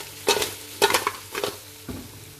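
Crab pieces for a crab curry are sautéed and tossed in a pan, giving four short bursts of sizzling, scraping clatter over a low frying hiss, close and without talk.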